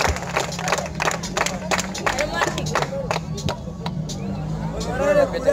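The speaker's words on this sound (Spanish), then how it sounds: "Bien, un aplauso, gente." Audience clapping at a freestyle rap battle semifinal, a burst of sharp individual claps over crowd chatter and babble, fairly close and rapid, thinning toward the end.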